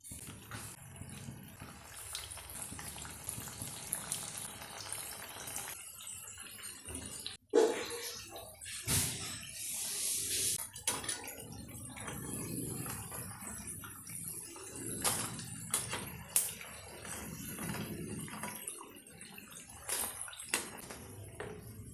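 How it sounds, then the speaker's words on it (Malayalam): Potato bubbles frying in sunflower oil give a steady, close crackling sizzle with a few sharper pops and clatters, heard without any talking. "ഇനി കുറച്ച് സൺഫ്ലവർ ഓയിലിൽ അത് ഗോൾഡൻ ബ്രൗൺ ആവണ വരെ ഇങ്ങനെ ഫ്രൈ ചെയ്തെടുക്കുക"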